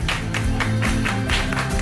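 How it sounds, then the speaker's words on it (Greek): Rhythmic hand clapping from an acting school warm-up next door: steady, evenly paced claps, slightly muffled and moderately loud, repeating about twice a second. "τα παλαμάκια που ακούτε δεν είναι χειροκρότημα, ούτε είναι μουσική επένδυση, ήταν προθέρμανση"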